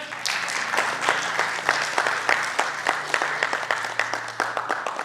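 An audience at an award ceremony applauds, a dense spread of individual claps keeping up a steady rhythm at moderate loudness for the whole stretch, with a low hum underneath.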